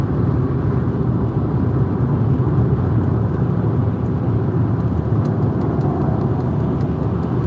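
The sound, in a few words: road traffic, cars driving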